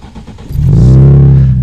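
A 2013 Morgan Roadster Sport with a sport stainless twin exhaust starts up with a brief crank, then catches into a loud, steady, deep idle rumble that settles close by and holds without any talk.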